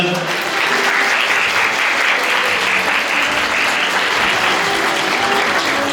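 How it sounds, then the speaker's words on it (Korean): Sustained, loud applause from guests at a hotel wedding ceremony at the Seoul Garden Hotel, a dense, even wash of many hands clapping together. "큰 박수 부탁드리겠습니다."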